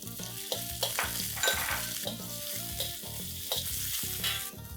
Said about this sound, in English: I'm going to saute this for a few seconds.